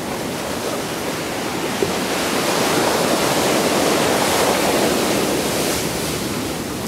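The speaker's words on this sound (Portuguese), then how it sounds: "o mar aberto, com ondas e tudo mais" Caribbean Sea waves at Santa Marta, Colombia, wash in as a loud, continuous broad rushing roar of surf that swells slightly partway through and holds steady with no voices.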